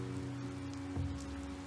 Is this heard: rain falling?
yes